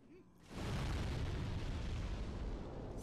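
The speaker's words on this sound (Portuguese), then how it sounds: "Esse cara vai jogar uma bomba." A bomb hurled by an enemy in Demon's Souls bursts into a loud, rumbling explosion after a brief quiet moment, then a long roaring blast fills the rest of the moment.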